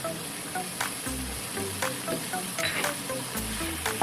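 Chicken karahi sizzling in a pan with salt and whole spices as it is stirred, steady frying hiss with repeated scraping and clinking strokes of a spoon, close and continuous.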